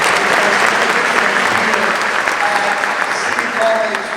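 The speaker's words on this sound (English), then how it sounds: "why don't we give a big round of applause to this wonderful leader" An audience at a speech event applauds a college leader. The clapping is dense and sustained and stays steady and loud from start to finish, with a faint murmur of crowd noise underneath.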